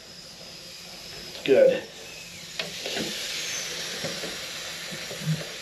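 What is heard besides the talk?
garment steamer hissing steam onto guitar neck heel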